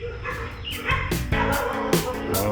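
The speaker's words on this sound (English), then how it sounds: "the neighborhood dogs are at it this morning" Several neighborhood dogs bark in the morning, a close, loud run of repeated barks and yips with uneven timing, heard alone without talking.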